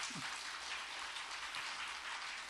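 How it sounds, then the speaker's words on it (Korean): Warm applause from a church congregation during a Sunday worship service, continuous dense clapping heard faintly at a distance, steady throughout. "우리 뜨거운 박수로 주시고요"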